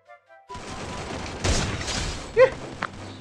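Several sharp gunshot bursts crack over a steady background rumble, with a louder shot near the end, gunfire in the video game Free Fire.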